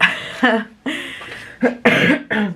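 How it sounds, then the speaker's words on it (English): A run of dry, hacking coughs up close, lingering after COVID, coming in several short bursts with brief pauses between them. "I still have a cough"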